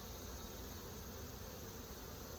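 Dense bees in a packed open hive full of wet brood fill the air with a steady, loud, continuous buzzing drone, close and unbroken, with no talking.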